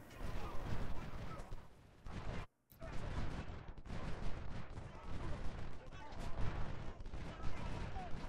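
Musket volleys and artillery fire from a Civil War battle at Little Round Top, Gettysburg, in the Ultimate General: Civil War video game: dense, continuous rolling gunfire with a brief dropout near the start, otherwise steady and loud throughout.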